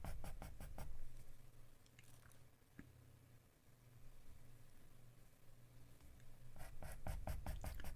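A pastel pencil scratches across paper in quick, close, rhythmic back-and-forth strokes, with bursts at the start and end and softer scraping between, and no talking.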